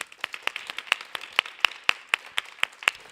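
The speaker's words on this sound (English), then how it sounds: "we could give a round of applause to those who are here who have really made this thing happen" Sparse, crisp hand claps from a small seminar audience, distinct individual claps in a loose irregular rhythm, fairly close and moderately quiet, with no one speaking over them.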